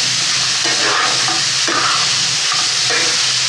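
Capsicum and pea curry being sautéed in a pan over high heat, a loud steady sizzle and fry with scraping stir strokes recurring every second or so, no voices.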